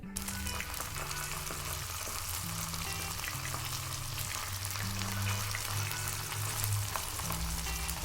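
Paneer pieces fry in hot oil for a chilli paneer starter, giving a loud, steady, continuous sizzle with bubbling crackle throughout and no talking.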